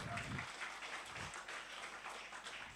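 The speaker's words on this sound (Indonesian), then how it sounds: "tepuk tangan dong buat Mahatali" Quiet, distant applause from an audience at a book launch held by an Islamic college in Jakarta, a soft wash of clapping under a noisy hall with some faint voices.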